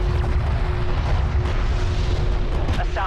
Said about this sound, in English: a lot of Soban units blowing up